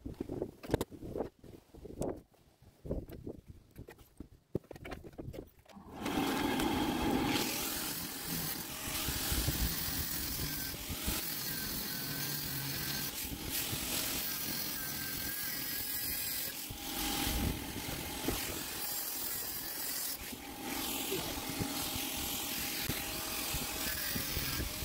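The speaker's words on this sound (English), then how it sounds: "I'm going to stick on my very epic bouncy castle fan, so it'll get pretty noisy, but that's going to blow all the fumes away properly." A bouncy castle blower fan runs nearby, a loud steady roaring whoosh of rushing air that starts abruptly after a few seconds of quieter clattering and then holds constant to the end.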